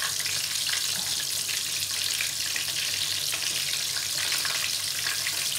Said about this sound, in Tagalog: binabaliktad ko naman ulit itong fried chicken